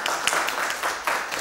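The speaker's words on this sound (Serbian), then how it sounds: "Hvala lijepo i aplauz za afirmacijsku ekipu." An audience applauds the affirmative team at a school debate on education reform: a short, dense burst of clapping at steady loudness.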